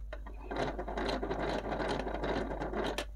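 An antique Ericsson hand-cranked magneto, Swedish-made, is turned continuously, giving a dense rapid ratcheting whir of gears close by that runs evenly for the whole stretch over a low hum.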